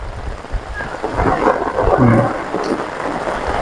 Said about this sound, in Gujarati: મિત્રો તમે જોઈ શકો છો કેટલો વરસાદ વરસી રહ્યો હતો